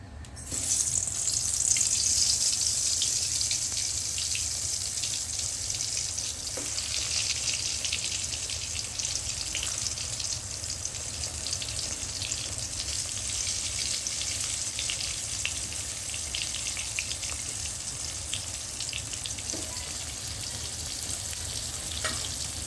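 Steady hiss and crackle of eggplant slices sizzling in hot oil, continuous and fairly close, with a brief louder burst at the start and no talking.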